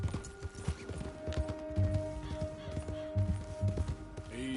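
Horse hooves trotting in the Red Dead Redemption video game, a steady clip-clop rhythm at moderate loudness over a bed of background game sounds and music tones.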